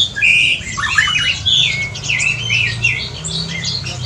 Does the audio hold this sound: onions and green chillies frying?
no